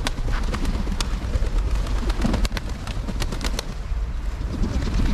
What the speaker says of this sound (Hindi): आके कबूतर सब हाथ पे बैठ जाती है यहाँ पे